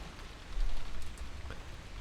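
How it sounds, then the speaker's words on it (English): Steady rain falling as an ambient effect in the Umineko visual novel, a continuous mid-level hiss with soft scattered drop patter, no voices. "Outside, the rain was no longer falling weakly."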